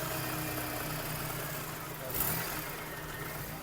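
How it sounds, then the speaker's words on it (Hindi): A Suzuki Cultus engine idles after a tappet replacement, a low steady hum with no ticking, heard at moderate distance and fairly quiet. "गाड़ी स्टार्ट है और टैपट की बिल्कुल भी आवाज़ नहीं है"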